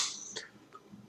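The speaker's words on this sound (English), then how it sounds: "I apologize for coughing so much" A person coughs a few times at close range, soft and fairly quiet, with short bursts against low room noise.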